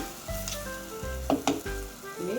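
Tomatoes sauté in a pan for a spicy Jaffna-style soya bean curry, a soft continuous sizzle with a few brief stirring scrapes and clinks, faint and close.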